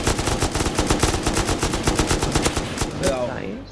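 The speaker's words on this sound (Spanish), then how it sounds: "¿no estás escuchando los tiros?" Rapid automatic gunfire from the survival video game Rust, a sustained loud burst of closely spaced shots rattling for several seconds before tapering off at the end.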